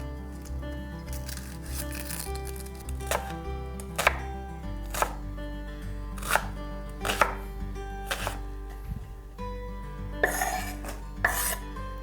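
Knife chopping onion and garlic on a cutting board in a home kitchen, a steady run of sharp, close taps that speeds into a quick flurry near the end, over a low background hum.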